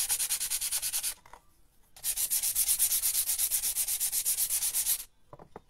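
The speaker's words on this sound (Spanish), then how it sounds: "Ya la primera mano tienen que lijar. Esto es una lija suavecita" Fine sandpaper rubs over a first coat of paint on MDF board in quick, even back-and-forth strokes, close and crisp, in two long bursts split by a short pause, with a few softer scrapes at the end.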